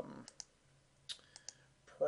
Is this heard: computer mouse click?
yes